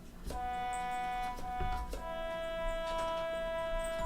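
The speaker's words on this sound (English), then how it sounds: "It's a trumpet. It's a kind of brass instrument," A trumpet sounds sustained bright notes, one tone held and then another, clear and steady against faint background noise.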